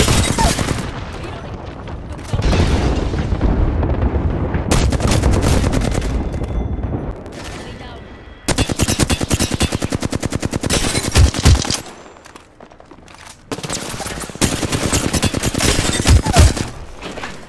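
Apex Legends gunfire sounds as long, loud bursts of rapid automatic shots with heavy thuds, broken by brief pauses, with a character's voice line heard.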